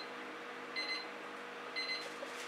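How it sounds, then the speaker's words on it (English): A kitchen timer goes off with two short bursts of rapid high beeps about a second apart, faint against a steady background hiss in a room where acrylic paint is being poured. "That's my timer telling me I've got 2 minutes."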